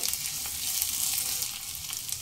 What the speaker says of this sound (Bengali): প্রায় 2 মিনিট মতো একটু ভাজা ভাজা করে নেব।